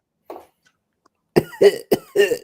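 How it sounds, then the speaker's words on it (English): A person gives one short cough, then after a pause a run of four harsh, forceful coughs, close and loud, with no talking. "Try to see you cough like that."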